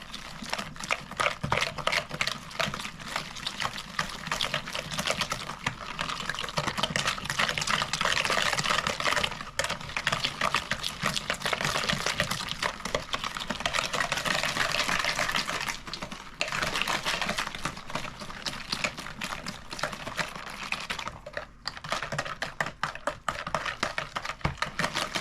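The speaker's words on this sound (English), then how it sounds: "you take a whisk and you're just going to start whisking this all together until it becomes a liquid" Ingredients being whisked together in a bowl until they become liquid, a rapid continuous clicking and swishing of the whisk against the bowl that runs for a long stretch with brief pauses, close and steady, with no talking.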